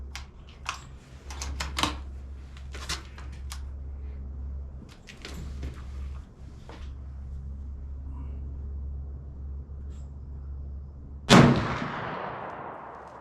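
A single loud 20 gauge shotgun blast firing a Barnes 290-grain copper sabot slug, a sharp close crack with a ringing decay, preceded by quiet handling clicks and a low hum.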